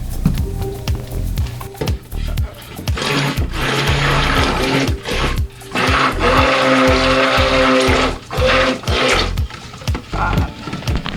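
A stick mixer whirs in repeated bursts, stopping and restarting several times with short gaps, as it blends oils, butters and colorant into a natural hair product.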